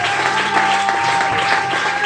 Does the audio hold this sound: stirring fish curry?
no